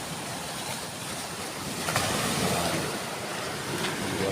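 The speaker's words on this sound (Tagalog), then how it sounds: "Ito yung dagat. So, yan ang dagat." Sea waves at dawn wash steadily in a broad, continuous roar, fairly close and moderately loud, with wind mixed in and no talking.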